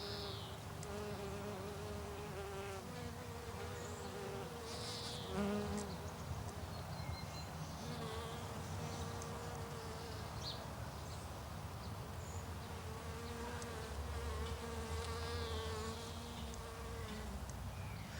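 Steady insect buzzing fills a wildlife garden, with several bees droning close by among flowers such as borage at a constant level and faint bird calls in the background.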